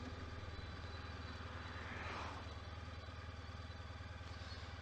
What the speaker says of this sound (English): And we'll turn off the engine.